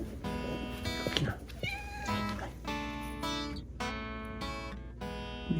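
Several cats meow repeatedly, loud and close, with long tonal cries overlapping one another in a cluttered indoor space, alongside faint rustling.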